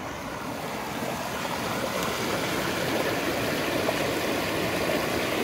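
Water runs steadily through a culvert after a beaver dam has been removed. It makes a continuous, even rushing wash at moderate level, with no distinct splashes and no talk.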